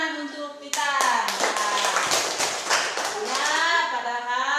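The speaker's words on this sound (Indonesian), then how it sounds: "Tepuk tangan untuk Titan." Pupils in an Indonesian primary classroom clap together for a classmate, a burst of brisk, fairly close clapping that starts abruptly and runs several seconds while children's voices and chatter carry through it.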